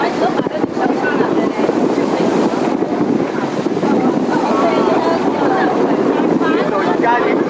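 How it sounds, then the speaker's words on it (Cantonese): Sea waves wash around a small boat near rocky islands. Continuous rushing water is mixed with heavy wind buffeting, while people talk over the noise. "呢個浪啊！"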